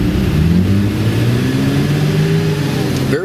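A 2013 Mercedes-Benz SLK 350 AMG Sport engine revs loudly as the car accelerates hard in sport mode, its pitch climbing steadily through the gear, heard from inside with no talking.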